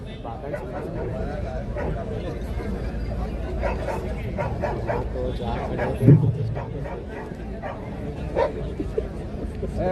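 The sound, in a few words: dog barking at dog show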